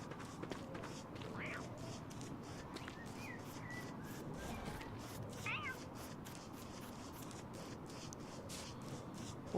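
A few short cat meows in the video game Don't Starve, faint and intermittent, over a soft background with light shuffling and occasional voices.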